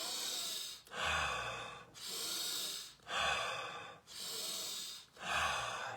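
Slow, deep breaths in a guided breathing exercise, four long airy inhale-exhale cycles about a second and a half each, close and steady with soft snorting at each turn, no talking.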